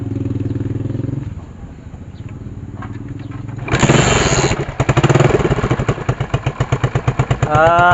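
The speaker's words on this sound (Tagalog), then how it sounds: "Paandarin na po natin ang motor." An engine idles, cuts, then a motorcycle cranks and fires up into a loud, rapid putter that keeps running close by; the motorcycle runs on its battery but dies when it is removed.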